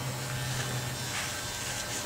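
Electric clippers buzz steadily up close during a military-style bald fade haircut, a continuous motor drone with no speech.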